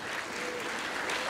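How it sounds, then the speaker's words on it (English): An audience at an elementary school second-grade Christmas performance claps steadily, a dense, even wash of applause from a crowd of parents filling the room without pause. "Give them a round of applause."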